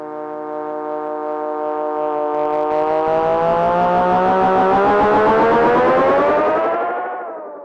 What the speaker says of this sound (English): Goes into self-oscillation, this.